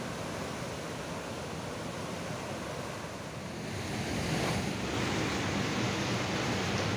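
The Chenab river near the Tattapani hot spring in Warwan valley rushes steadily as broad, continuous water noise, growing slightly louder midway, with wind buffeting the microphone.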